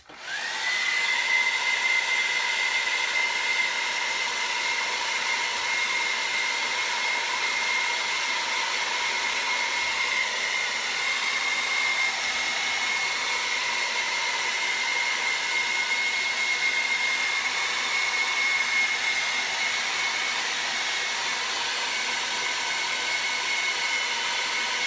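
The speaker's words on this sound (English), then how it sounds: "I'm just gonna run the hairdryer to try to dry it so I don't smear any of the paste" A hair dryer runs steadily to dry paste on a craft project, a loud continuous whirring blow with a high whine, holding an even level for the whole stretch with no talking.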